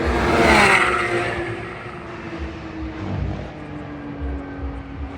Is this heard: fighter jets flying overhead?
yes